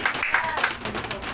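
A church congregation breaks into brief, fairly loud applause, many hands clapping together in a dense, uneven patter, with a voice mixed in.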